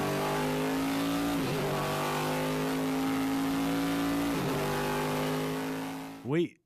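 A car engine revs up loudly, dropping pitch at each gear change in two clear shifts before climbing again, ending with a brief rising whine.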